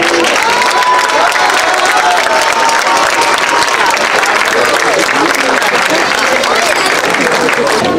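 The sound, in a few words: audience applauding the arrival of the Olympic flame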